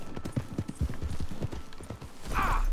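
Horse hooves clip-clop in a steady, fairly close rhythm while riding in the Red Dead Online western video game, ending with a brief brighter burst of sound.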